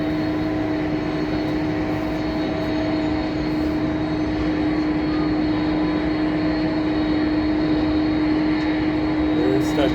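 Airliner touching down on runway 34 right at Seattle SeaTac, heard from the control tower as a steady, distant engine roar with a constant tonal hum throughout.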